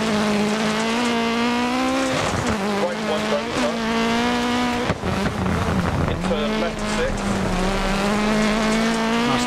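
Rally car engine revving hard on a gravel stage in Wales in Dirt Rally, a steady high-pitched drone that briefly drops and surges around a handbrake skid, with loose tyre scrub and a voice talking over it.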